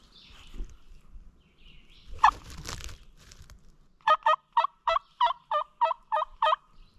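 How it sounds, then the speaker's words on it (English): A wild turkey tom gobbles in the woods, with rustling and a brief noisy burst early on, then a rapid series of about nine loud, evenly spaced gobbling notes. "there he just gobbled down below me"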